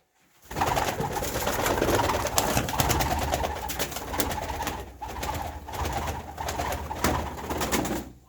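Pigeons cooing steadily amid a dense, continuous rustle and flutter, with soft repeated coos close by and no voices.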